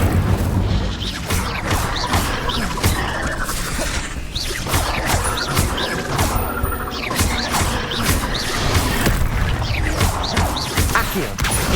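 Spell blasts from Hogwarts Legacy gameplay, a dense run of booming, crashing impacts and whooshes repeating steadily without pause, loud and close throughout.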